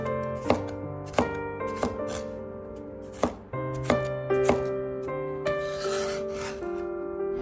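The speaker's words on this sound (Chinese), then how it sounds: "然后将黄瓜切成小丁。" Knife chopping cucumber into small dice on a cutting board, with a run of sharp, fairly regular chops near and clear, set over steady background music.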